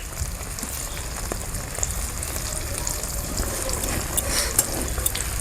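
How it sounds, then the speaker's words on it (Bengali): Paneer sizzling in hot oil with turmeric powder in a village kitchen: a steady, close crackling hiss with scattered pops that grows slightly busier toward the end. "প্রথমে কিন্তু আমি পনিরটাকে সুন্দর করে ভেজে নেব"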